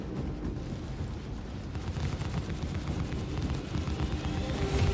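Weapon fire rakes a ship in the Star Citizen space game during a large fleet battle: a dense, continuous barrage of rumbling impacts and blasts that builds steadily louder, with no talk over it.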